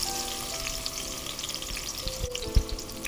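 Onion hitting hot oil for a mint chutney, a bright continuous sizzle and crackle close by, with a low thump from the pan near the end.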